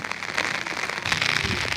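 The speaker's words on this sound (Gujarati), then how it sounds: "વરસાદે પાણી પાણી ભરી દીધા જુઓ" Dense, steady hiss of rain falling on surfaces in a village, with crackling patter throughout.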